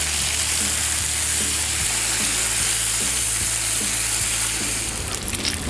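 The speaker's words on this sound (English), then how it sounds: "Nothing like bacon out here on the Blackstone." Bacon sizzles steadily on a Blackstone flat top griddle outdoors, a constant close crackling hiss with faint scrapes and taps of a spatula.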